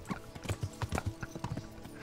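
Rhythmic horse hooves clip-clopping at a steady trot in the medieval game Kingdom Come: Deliverance, close and clear with no talking.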